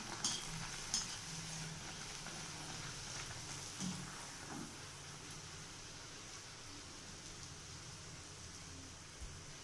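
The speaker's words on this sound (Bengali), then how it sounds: "এক এক করে করে আমি তেলের মধ্যে ছেড়ে দিচ্ছি।" Rolled naan puri dough fries in hot oil with a soft, steady, fairly quiet sizzle, broken by a few faint clicks and bumps.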